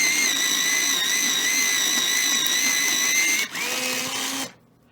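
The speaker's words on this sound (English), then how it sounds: "I have an AFMAT electric sharpener" An AFMAT electric pencil sharpener grinding a colored pencil, a steady high whine running close and loud for several seconds, dipping briefly before cutting off into near silence.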